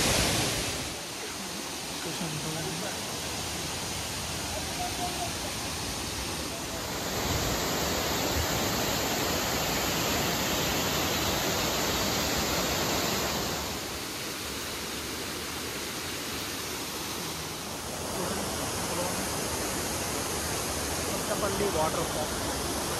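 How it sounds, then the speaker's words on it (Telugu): A waterfall near Araku roars as a broad, steady rush of falling water. The sound stays loud and unbroken, and voices talk over it at times. "water fall"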